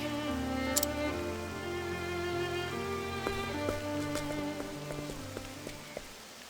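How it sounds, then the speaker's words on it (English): Soft rain patters in the video game Octopath Traveler II, a quiet continuous hiss beneath sustained musical tones and a few light ticking accents. "The rain's returning to normal."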